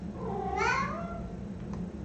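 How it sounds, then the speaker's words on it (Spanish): A cat gives one clear, close meow with a rising then falling pitch over a low, steady room hum. "el gato tiene razón"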